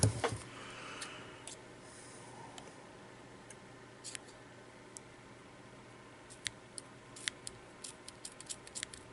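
Quiet room with sparse, crisp clicks and snips of scissors cutting vape coil wire, irregularly spaced and growing more frequent toward the end.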